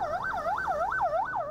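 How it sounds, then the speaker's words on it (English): Ambulance siren wailing in a rapid repeating rise-and-fall pattern, five or six quick sweeps at moderate loudness, steady and unaccompanied by voices. "Under the cover of the flashing lights of an ambulance,"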